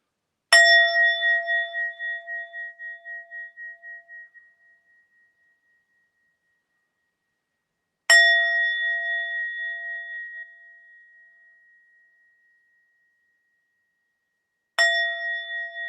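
A cleansing bell struck three times, each ring a bright metallic ding that decays slowly over several seconds in an otherwise silent room, with long pauses between strikes.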